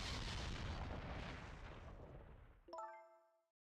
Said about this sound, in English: An explosion?